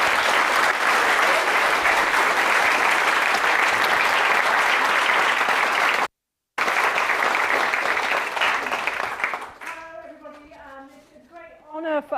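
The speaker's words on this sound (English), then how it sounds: "So give them a round of applause, please." Audience applause fills the hall at the grand final of a Shakespeare performance competition at Shakespeare's Globe, loud and sustained with a brief cut, then fading as children's voices talk and chatter over the dwindling clapping.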